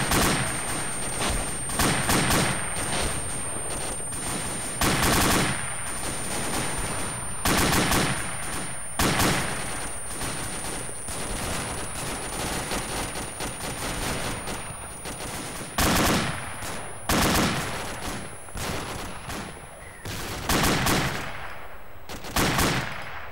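Sustained bursts of automatic gunfire in a military convoy combat scene in a video game, loud, close bursts repeating throughout with heavy crackling volleys.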